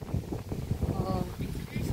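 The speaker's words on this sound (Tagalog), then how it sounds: "Mahangin." Wind gusts across the microphone at Tagaytay on a misty day, a low rumbling buffet that rises and falls beneath nearby voices talking.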